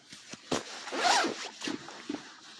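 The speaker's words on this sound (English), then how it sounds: "zip up your jacket" Clothing zipper on a jacket runs in one close, raspy pull lasting about half a second, surrounded by light rustling and small handling clicks in a quiet room.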